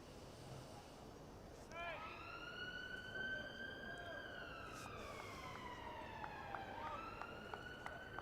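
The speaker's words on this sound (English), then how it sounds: "There's a few sirens I can hear. Something's happening around Kennington." Distant emergency sirens wail around Kennington during a county cricket match, their rising and falling tones sweeping faintly over steady crowd and ambient murmur, with a voice talking over them.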